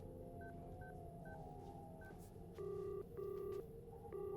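A telephone number is dialed on speakerphone at a police station in a Hindi-dubbed South Indian horror film: a few soft keypad beeps, then three louder, steady dual-tone presses with short gaps between them, heard alone.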